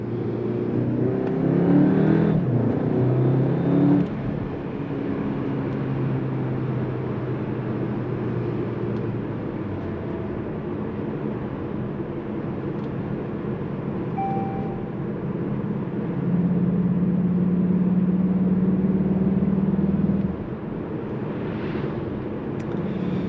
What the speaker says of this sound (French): Je vais vous faire écouter le son du véhicule une dernière fois.